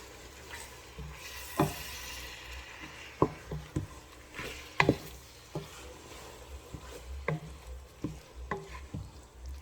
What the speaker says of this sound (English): And just fry it together.